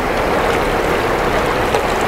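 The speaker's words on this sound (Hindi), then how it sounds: "अब लहरें इतनी डिफरेंट अलग अलग तरह के रूप दिखा रही हैं अपने, ये देखो।" Flowing Ganga river water at Devprayag, a steady, dense rush of water and surf-like wash that stays loud and even from start to finish, with no voices over it.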